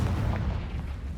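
A Confringo spell blast in the Hogwarts Legacy video game lands as a deep, rumbling explosive boom that fills the whole short moment with heavy low-end roar.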